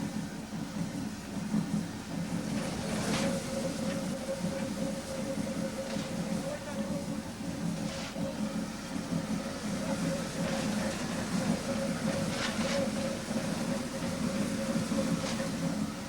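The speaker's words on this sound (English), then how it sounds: "our next steam locomotive was waiting for us" Steady low rumble and rhythmic clatter of a steam locomotive train rolling along, with a sustained droning tone and occasional sharper metallic accents throughout.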